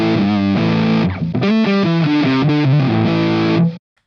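Electric guitar through a Rockergain 100 amp plugin with a fuzzy, distorted tone, playing a loud, close riff of sustained chords and quick note changes, ending abruptly into silence.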